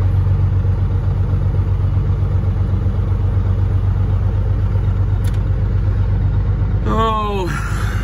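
A truck engine idles with a loud, steady low rumble before pulling away, its note changing near the end as it moves off, with a brief voice heard over the engine.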